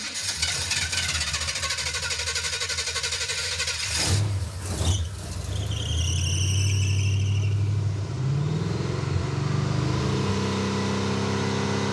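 A carbureted V8 in the Super Camaro runs after an ignition timing adjustment. The engine drones steadily and loudly, sputters and revs briefly midway, then settles into a rougher idle with a thin whine over it.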